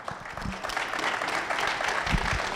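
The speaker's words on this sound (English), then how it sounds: "Let's give them a round of applause." An audience applauds panelists at the close of a session, a brief wash of steady crowd clapping at moderate volume, with a few low thumps and faint voices underneath.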